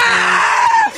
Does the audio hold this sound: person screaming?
yes